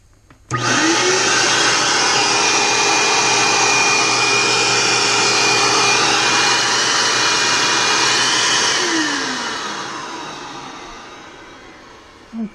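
A vacuum cleaner rigged as a forge blower motor starts abruptly and roars steadily with a high whine, then slowly winds down and fades near the end; close and loud, no talking.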